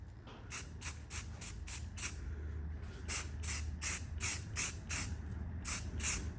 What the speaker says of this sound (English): I'm gonna hit it with primer